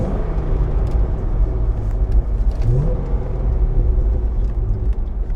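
A 2007 Chevrolet Corvette Z06 engine pulls hard through the gears with a steady, loud rumbling roar that rises in pitch. One upward sweep is audible midway. No one speaks.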